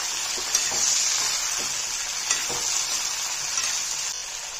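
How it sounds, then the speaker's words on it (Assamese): Climbing fish frying with salt in a pan gives a steady, close sizzle that holds throughout, with a few faint clicks from turning or stirring. "ভাজা হৈ লওক, অলপমান ভাজি ললে খাবলৈ ভাল হয়"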